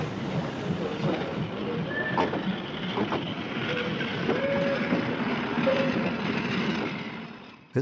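A Romanian Class 230 steam locomotive hauls a train past, with continuous rumbling wheels, a few short squeals and clanks over the top, fairly loud and unbroken until an abrupt cutoff.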